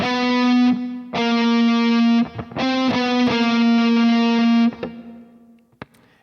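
A distorted electric guitar plays a short lick of sustained, crunchy notes with brief breaks between them, ending in a quiet tail and one last pluck.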